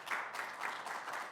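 Quiet, distant audience applause at a Toyota South Africa event, a brief soft spatter of clapping heard from afar.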